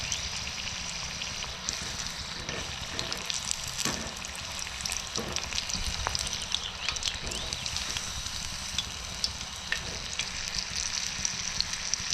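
Snakehead fish fingers fry in hot oil with a steady, close sizzle and continuous crackling pops, a dense bubbling hiss that holds evenly throughout with occasional sharper spits.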